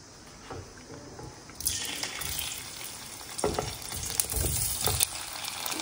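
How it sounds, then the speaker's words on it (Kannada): Boiled raw banana pieces fry in a little oil, a soft steady sizzle that turns louder and crackly as the pieces are stirred in the pan. "ಈಗ ಈ ಕುದಿಸಿರೋ ಬಾಳೆಕಾಯಿ ಇದೆ ಅಲ್ವಾ, ಸ್ವಲ್ಪ ಎಣ್ಣೆಲಿ ಫ್ರೈ ಮಾಡ್ತೀನಿ"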